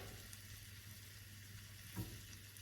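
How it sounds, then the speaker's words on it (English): Shrimp sizzle steadily in a pan over low heat, with a constant close frying hiss and a brief soft bump as they are flipped. "You can flip your shrimp over."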